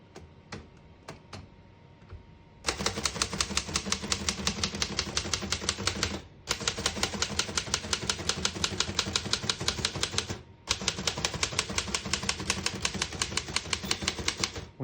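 Rapid, steady keystrokes on a 1940 Remington Model 5 portable typewriter, sharp close clacks running in three long bursts with brief pauses between them, after a few seconds of quieter handling at the start.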